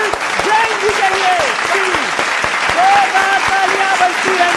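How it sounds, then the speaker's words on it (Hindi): Audience clapping at a student quiz show, steady and close, running under a loud voice that talks over it throughout. "तालियां बजती रहनी चाहिए"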